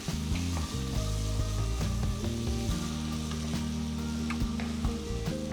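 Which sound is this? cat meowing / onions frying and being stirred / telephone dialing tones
onions frying and being stirred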